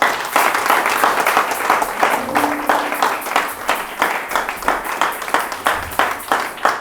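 A church congregation applauds in praise, with loud, sustained clapping from many hands that settles into a steady rhythmic beat.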